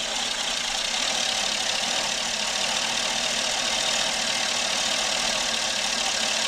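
A car engine converted to run on CNG natural gas with sequential injection idles in a steady, even drone, close and continuous with no talking.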